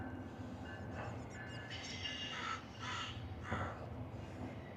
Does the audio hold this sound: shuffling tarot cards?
no